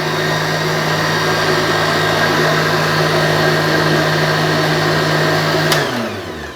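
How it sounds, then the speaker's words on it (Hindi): An electric blender whirs at high speed blending mango juice, a loud steady motor drone with a constant pitch that winds down near the end as it is switched off. "आम का जूस ब्लेंड हो रहा है"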